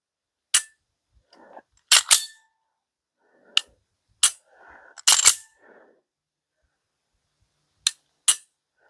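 Slide of a LEO Precision Oden slide on a Glock 19 9mm pistol being racked, several sharp, close metallic clacks spaced apart over about nine seconds with soft handling rustles between, no talking.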